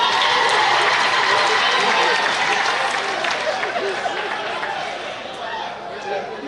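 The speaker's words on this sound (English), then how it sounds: "you give a very big round of applause for Eunice Bojosu" A large crowd at an ANC provincial party conference gives a sustained round of applause, loud and dense at first and slowly fading, with crowd murmur mixed in.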